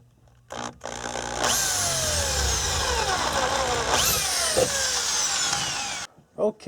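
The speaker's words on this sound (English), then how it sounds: "I'm going to go ahead and drill my 2 holes now" Power drill boring two holes in a 1992 Acura Legend to mount a spoiler load resistor, steady whine running for several seconds with pitch sweeps as the bit bites, close and loud, ending abruptly.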